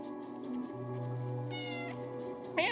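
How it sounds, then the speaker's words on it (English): A cat meows in the video game Stray: one rising, tonal call at about 1.5 seconds and a second sharper cry near the end, over a steady hum of game music and ambience. "How can I meow?"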